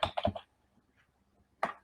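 A password being typed on a computer keyboard: a quick burst of four or five close, crisp key clicks, a short quiet gap with a faint tap, then one more sharp keystroke at the end.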